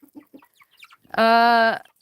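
A backyard hen gives one loud, close, drawn-out squawk lasting about half a second at feeding time, with soft scattered clucks and scratching noises before and after it.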